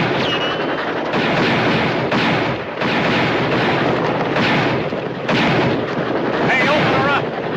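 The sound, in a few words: gunfire shooting at a steamboat in a western film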